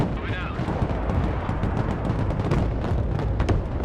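Gunship fire in the Broken Arrow campaign, a dense, continuous rumble of heavy gunfire and explosions under a voice talking throughout, with sharper reports near the end.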